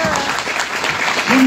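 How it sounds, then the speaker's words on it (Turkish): Applause from an audience at a theatre festival event, a lively burst of clapping with a voice briefly heard over it and a tonal sound rising near the end. "Alkışlıyoruz."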